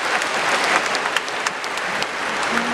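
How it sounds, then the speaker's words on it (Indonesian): An audience at a married couples' retreat in Langgur, Kei, claps in steady, warm applause that fills the room evenly for a few seconds. "Tepuk tangan dong."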